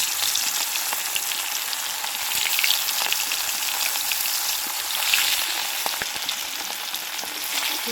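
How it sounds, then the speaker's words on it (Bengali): Fish sizzling steadily in hot mustard oil in a pan, a dense, continuous crackle and spatter that swells slightly at moments, with no talking. "তেল গরম হয়ে গেছে। মাছগুলো একে একে দিয়ে দেব।"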